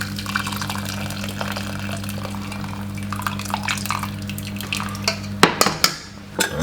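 Water poured into a pot of easy-cook rice for onion rice, a steady trickling fill under a constant kitchen hum, then a few sharp clanks of a pot or utensil near the end.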